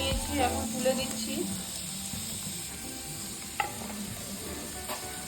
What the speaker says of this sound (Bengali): আমি এখন পনিরটাকে হালকা করে ভেজে নেব